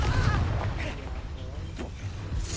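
Confringo fire-spell blasts in Hogwarts Legacy, deep booming bursts in quick succession with a rumbling low tail, loud and close over a busy combat backdrop.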